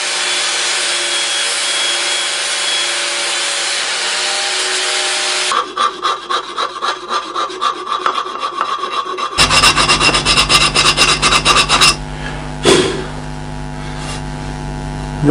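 A file rasps across thick aluminium from an old fire extinguisher being shaped for a wind chime, first a smooth steady rubbing, then rhythmic strokes, then harsher scraping passes, close and alone with no talking.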